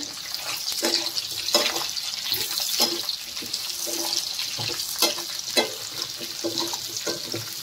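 Four large onions fry in a pan for paneer masala curry, a soft steady sizzle with crackles and occasional scrapes of stirring, fairly quiet and close with no talking.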